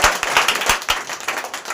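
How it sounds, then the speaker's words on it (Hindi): Students in a classroom give a short burst of lively, close applause, with quick irregular claps lasting under two seconds. "बहुत जोरदार तालियां।"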